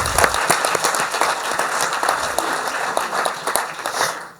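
An audience at a conference in Colmar breaks into steady, fairly close applause that holds for a few seconds and then tapers off at the end.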